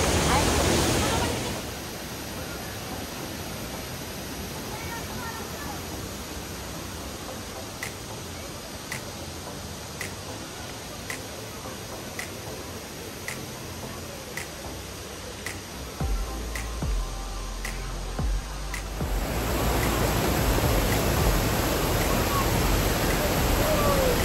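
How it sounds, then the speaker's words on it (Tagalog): The lower portion of Tiggalay Falls gives off a steady broadband roar of falling water. It is loudest at the start and end, with a quieter stretch in between that carries faint regular ticking. "Ito yung lower portion ng Tiggalay Falls."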